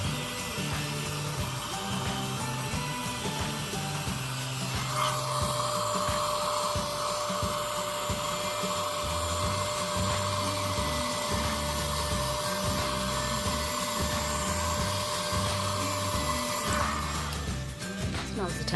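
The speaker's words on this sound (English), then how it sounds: "Not too much heavy blow drying" A hair dryer blows on curly hair set in sponge curlers, a steady whooshing hum starting a few seconds in and cutting off near the end, with a voice talking over it.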